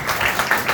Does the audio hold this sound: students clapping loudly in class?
yes